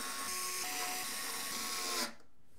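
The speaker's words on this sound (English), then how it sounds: "then we're going to use the long radiator screws that come with the IO to secure the fans" Screws being driven to fasten PC case fans onto an AIO radiator during a Montech Sky Two GX build, a steady close whirring power-driver drone that holds for about two seconds and then stops abruptly.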